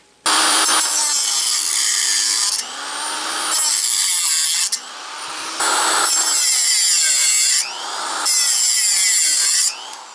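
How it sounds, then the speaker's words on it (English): Hand saw cutting off protruding pins from a metal workpiece in a machine shop, loud steady raspy strokes in several long bursts separated by brief pauses, close and alone with no talk. "the first thing I'll do will be to lop off the pins"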